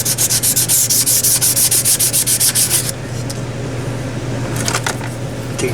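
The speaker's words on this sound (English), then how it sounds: "Takes a little buffer thing here." A buffer works over the natural aluminum skin of an RV-6 kit aircraft, giving a loud, rhythmic rubbing whir for about three seconds before fading into a steady background hum with a few light scrapes.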